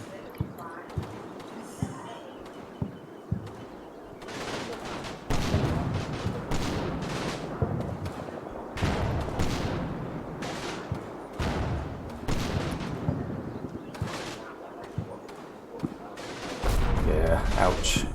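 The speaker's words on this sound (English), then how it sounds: "a lot of high explosive shells just been wasted. And those are mortars." Mortar and high-explosive shells fire in a war video game, a run of sharp booming reports spaced irregularly, growing louder and denser partway through, with a heavy rumbling stretch near the end.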